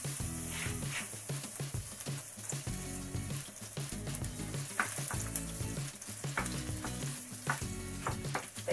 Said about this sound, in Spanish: El aceite le tendréis caliente y añadiréis los ajos